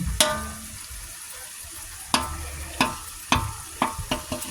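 Butter and egg frying in a pan while chowmein and fried rice are cooked, with a steady sizzle broken by several sharp clanks and scrapes of a utensil stirring against the pan.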